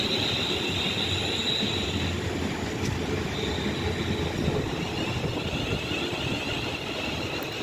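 A Class 350 electric passenger train runs through Rugby station on the West Coast Main Line, giving a steady, loud rumble of wheels on rails with faint squealing tones throughout.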